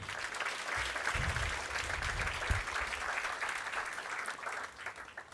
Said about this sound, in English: Let's give the Minister another hand of applause.